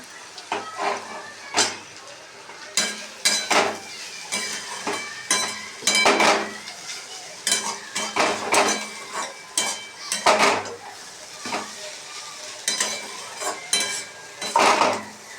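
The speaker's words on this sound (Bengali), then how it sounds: "এই কড়াইটা তো লটপট করছে" A wobbly metal kadai clatters and knocks on the stove while small fish chorchori is cooked and stirred, giving irregular clanks and rattles with brief pauses between them, close and fairly loud.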